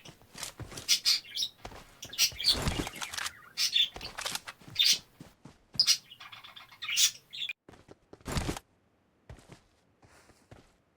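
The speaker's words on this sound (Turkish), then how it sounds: "Kuş sus ya." Sharp, high bird chirps and tweets come in rapid bursts close by, with shuffling and fluttering sounds between them before a quiet stretch.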